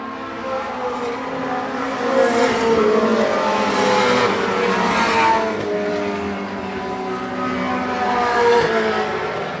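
Race cars in an Outlaw Mini series championship race roar around a track, a continuous loud engine drone swelling and fading as cars pass, with no talk over it.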